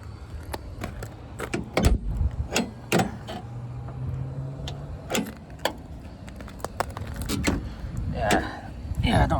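An old restored car's stuck door is forced open with a series of sharp metallic clunks, creaks and bangs at close range, irregular and effortful, with people talking now and then between the knocks.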